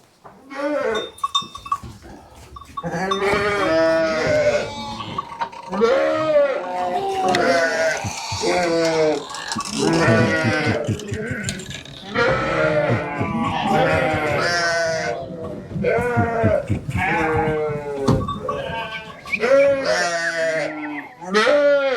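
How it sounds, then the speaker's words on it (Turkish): Many lambs and sheep bleat continuously, overlapping high and low calls close by, with voices mixed in among the flock. "Kuzulara bakalım."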